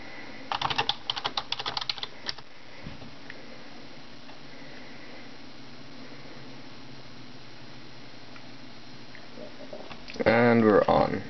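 Quick, close keystrokes tap out a password on the computer keyboard of a Dell XPS 8300 desktop in a short flurry followed by a pause, under a faint background hiss, and a voice speaks briefly at the end.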